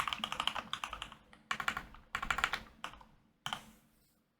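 Rapid clusters of computer keyboard keystrokes during a modded Minecraft session, close and crisp, arriving in several bursts separated by short pauses, with no talking.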